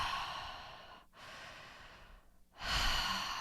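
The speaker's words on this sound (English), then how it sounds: "Keep breathing like this." Deep, breathy inhales and exhales during a breathwork session, close and clear, with two brief quiet pauses between the breaths and no talking.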